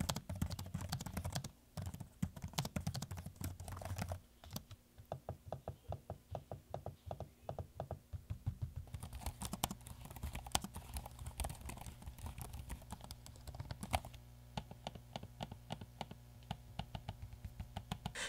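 Typing on HP Omen and Lenovo Legion 7 laptop keyboards: steady, rapid runs of close key clicks with short pauses, one keyboard crisper and clickier, the other softer and quieter.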